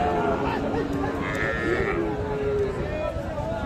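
A busy rural cattle market at Raniganj haat in Ghoraghat, Dinajpur, where Sahiwal bull calves are sold. Livestock bleat and low now and then over a constant crowd murmur.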